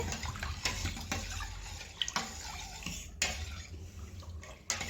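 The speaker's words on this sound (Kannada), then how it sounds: "ಉಪ್ಪನ್ನು ಹಾಕ್ಕೊಂಡ್ಮೇಲೆ ಒಂದು ಸೌಟನ್ನ ತಗೊಂಡು ಚೆನ್ನಾಗಿ ಮಿಕ್ಸ್ ಮಾಡ್ಕೋಬೇಕಾಗತ್ತೆ" A ladle stirs salted semolina batter for rava papad in a metal vessel, giving wet sloshing with sharp clinks of the ladle against the sides, close and fairly quiet.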